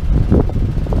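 Steady low buffeting wind rumbles against the microphone, a continuous gusty roar with no voices.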